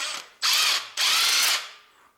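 A socket ratchet loosens the alternator bolts on a 2006-era Honda Civic 1.8 engine, making a short click followed by two loud, close bursts of fast ratcheting that fade at the end.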